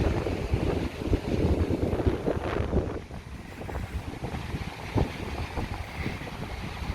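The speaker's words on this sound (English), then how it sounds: "as you can probably hear, it's super breezy." Strong wind gusts buffet the microphone in a continuous rumbling roar on an afternoon walk in Benidorm, easing briefly midway before picking up again.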